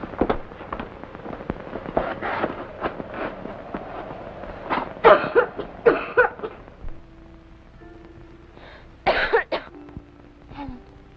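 Repeated harsh coughing fits, close and loud, with short bursts clustered together and brief pauses between them.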